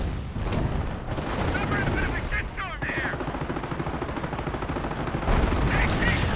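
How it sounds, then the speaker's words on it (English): Artillery fire in a real-time strategy game: a Hummel self-propelled armored gun sends 150mm rounds downrange amid dense, sustained gunfire and blasts, loud and continuous with a heavier swell near the end. "And firing away, Riven taking quite a bit of blasting as well. And there we go, the 150mm rounds flying through there."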